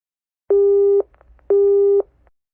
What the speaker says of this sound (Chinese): 对不起，您拨打的电话已关机